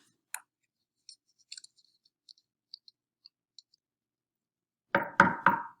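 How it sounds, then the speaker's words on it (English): Three loud, firm knocks on a door come near the end, after a series of faint scattered taps and clicks over near silence, with no talk. "Knock, knock. Who's there?"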